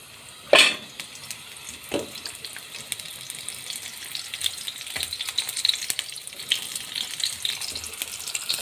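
Zucchini sautés in a frying pan for a baked zucchini béchamel dish. A clatter comes first as it goes in, then a steady, close sizzle with light crackling continues throughout.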